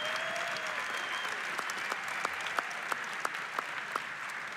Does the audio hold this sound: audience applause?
yes